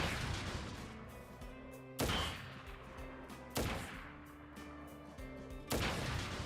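Gunshots in Final Fantasy 7 Crisis Core Reunion: four heavy, booming shots land at roughly even intervals, each with a ringing tail, over a quiet game backdrop.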